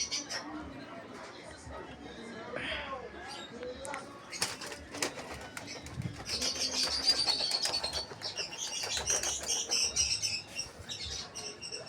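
Pigeons in a loft coo and call before being bathed, with wing flaps and chirps mixed in, rising busier in the second half; people talk intermittently under the birds.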